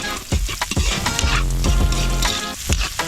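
Hot oil frying loudly in a pan while a spicy saluyot dish is cooked, with dense crackling sizzle and occasional stirring clatter throughout.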